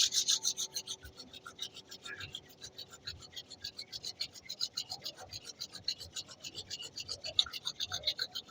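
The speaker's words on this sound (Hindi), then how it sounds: "अपने दोनों हथेलियों का घर्षण करें," Two palms rub together briskly during a yoga session, a close, rhythmic dry swishing of skin on skin repeating steadily throughout, with a voice giving instructions over it.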